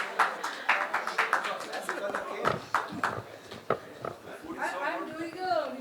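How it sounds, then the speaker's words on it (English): Scattered hand claps from a small group at a hotel event, irregular and fairly close, mixed with voices and chatter. "Give him a clap."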